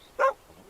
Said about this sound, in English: I like how you can see the dogs walking away in the background.